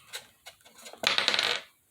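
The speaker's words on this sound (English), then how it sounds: "And that's a dice roller there." Dice clatter down through a wooden dice tower: a few separate knocks, then a dense rattling tumble of hard clicks that lasts about half a second before stopping abruptly, close and clear.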